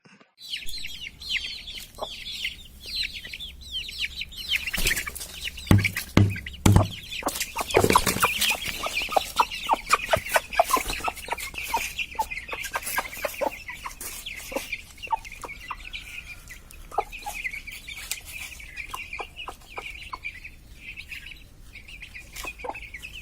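Chickens about 60 days old cluck and chirp nearby while eating worms, a busy, continuous stream of short calls, with some scratching and rustling noises mixed in.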